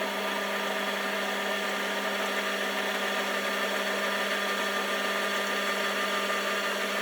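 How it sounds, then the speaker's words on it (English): A number 36 drill bores out a centre hole in a small metal part for a bore comparator, likely on a lathe, giving a steady, even machine whir with constant hum and no talking. "I've just put a number 36 drill in there to drill out the centre hole."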